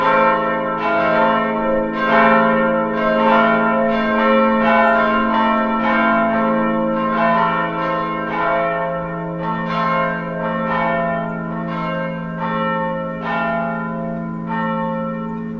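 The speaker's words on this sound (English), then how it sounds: "where the bell ringing goes" A church bell rings steadily in a continuous peal, strikes overlapping with a rich ringing tone, loud and close, with no voices.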